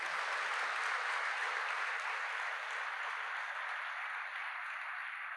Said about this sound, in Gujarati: એ લોકો માટે જોરદાર તાળીઓ પાડી દઈએ.